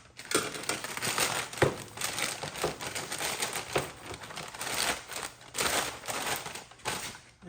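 Plastic packaging of a new engine air filter for a 2024 Acura MDX being cut open: close, faint bursts of crinkling and crunching plastic in irregular rhythm, with no talking.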